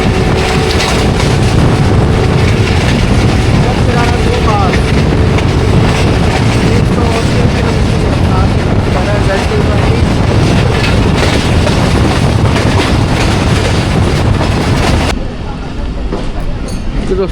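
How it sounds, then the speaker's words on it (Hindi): The 14 Down Awam Express, a passenger train running late, approaches Lala Musa Junction in Pakistan with a loud, continuous rumble and rattle of rail cars and heavy wind buffeting close by, easing off abruptly near the end. "14 डाउन अवाम एक्सप्रेस लाला मूसा जंक्शन पे अप्रोच बना रही है और 35 मिनट डिले के साथ"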